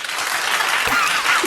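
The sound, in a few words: people clapping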